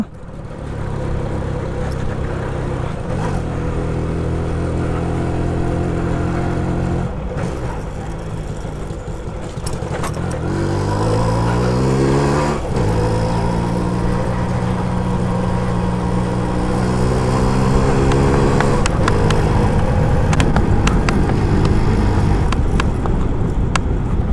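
A vintage motorbike engine runs steadily nearby, its low throbbing idle shifting through several revs that rise and fall, with no talk over it.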